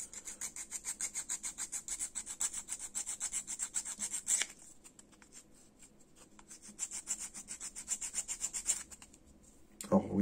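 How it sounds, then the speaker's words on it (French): A file rasps repeatedly across the underside of a Warlord Resin Plus miniature base, with quick rhythmic close-up strokes, a short pause in the middle, then more filing. "ça se lime beaucoup plus facilement que du métal"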